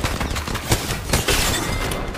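Rapid gunfire from the video game Apex Legends crackles loud and dense throughout, a continuous barrage of overlapping shots with a few heavier bursts.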